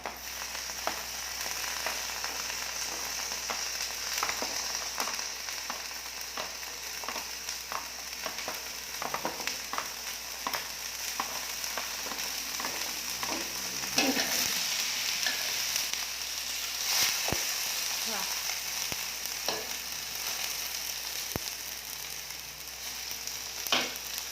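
Cucumber and three-colour bell peppers fry in a pan with a bright, steady sizzle. Sharp crackles and spits break through at irregular moments, and a brief stirring clatter comes midway.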